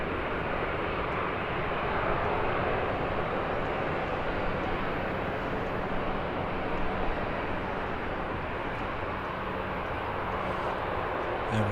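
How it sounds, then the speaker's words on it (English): A Ryanair airliner taxis onto the runway at Birmingham Airport, its jet engines giving a steady, continuous roar that holds level throughout without rising to a takeoff. "And Ryanair making its way onto the runway now."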